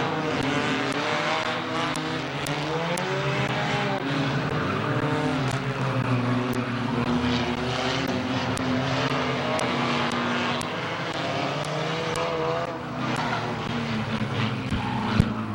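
Figure 8 race cars thunder around Midvale Speedway, a dense, continuous roar of several engines revving and shifting pitch as they pass, loud and sustained with no pause.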